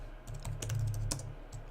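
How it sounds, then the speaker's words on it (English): Typing on a computer keyboard during coding, a quick run of crisp key clicks close to the microphone in an irregular rhythm, with a few separate taps trailing off at the end. "just try typing it out here."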